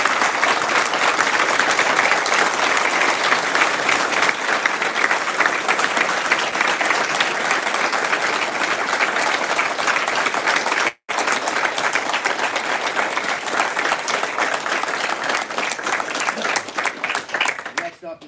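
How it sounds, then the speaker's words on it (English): Sustained audience applause at a jiu-jitsu black belt ceremony, a dense wash of many hands clapping that holds steady for a long stretch, briefly cutting out once before resuming at full strength. "So let's clap it up for Jen"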